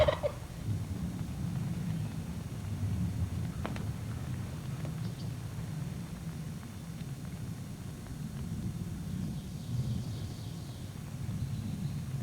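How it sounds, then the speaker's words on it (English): Wild turkeys in brush at the edge of a cornfield, their gobbling carried faintly from a distance over a steady low rumble of ambient noise, with a few faint rustles and footfalls. "Slowly, turkeys start entering the cornfield."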